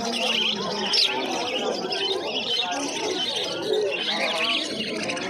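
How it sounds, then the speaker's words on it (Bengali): Many cockatiels in a cage at a pet market chirp and whistle at once, a busy, close chorus of overlapping high calls with occasional coos. "এই খাঁচাটার মধ্যে প্রচুর ককটেল পাখি রয়েছে"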